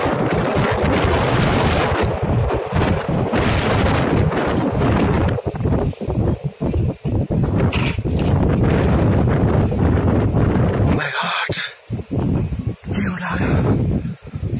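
Gusty wind buffets a village rooftop loudly, thick rushing bursts broken by brief lulls and sharp drops, with a few short stretches where the blast eases before surging back.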